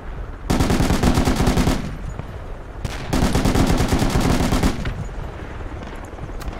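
Heavy machine gun firing in a war video game: two long, loud, rapid bursts of automatic fire with a short pause between them, close and dominant.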